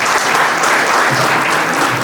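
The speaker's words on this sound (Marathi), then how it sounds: "सगळ्यांसाठी एकदा जोरदार टाळ्या वाजवा." Loud, dense applause from a crowd at a Buddha statue installation ceremony at a housing society vihara in Lohegaon, Pune, sustained without a break.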